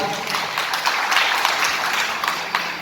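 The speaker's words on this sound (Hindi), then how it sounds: "इनके लिए जोरदार ताली से स्वागत होना चाहिए" An audience at a Nishad Party district president's welcome event claps steadily to greet a speaker, sustained and fairly loud, with some voices mixed in.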